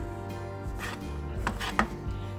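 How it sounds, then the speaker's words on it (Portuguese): A knife chops mozzarella cheese into finger-width pieces on a board, giving a handful of soft, close taps and cuts spread unevenly over a couple of seconds with no talking. "Eu vou picar elas assim, ó, mais ou menos um dedo"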